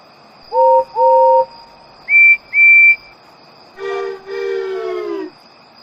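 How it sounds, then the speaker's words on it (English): A steam engine whistle toots in a Thomas & Friends story: two mid-pitched blasts, two higher ones, then two longer, lower chord-like hoots, loud and alone with no speech. "Respectable engines don't whistle loudly at stations."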